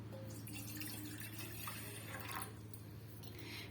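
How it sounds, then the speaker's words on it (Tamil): Water poured from a tumbler into a milk cooker in a home kitchen: a faint, steady trickle and splash over a low background hum, with no talking. "இப்போ வந்து ஒரு டம்ளர் அளவுக்கு நம்ம தண்ணி சேர்த்துக்கலாம்"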